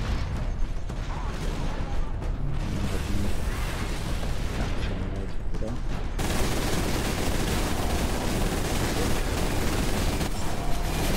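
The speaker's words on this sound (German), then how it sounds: "Sturmbolter ist natürlich nicht mehr so stark jetzt am Ende, aber er hat halt so eine schön hohe Schussfrequenz" Storm bolter firing in the Space Marine video game, a sustained dense burst of rapid gunfire that stays loud and unbroken, with no gaps and no voices.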